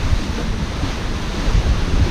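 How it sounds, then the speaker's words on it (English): Sea waves splash against a sailboat at sea during an evening passage from Isla Mujeres, Mexico, to Guatemala, with beam seas throwing the boat around; steady, loud rushing water and wind roar without talking. "the seas are coming from a beam, throwing me around, splashing the boat like crazy"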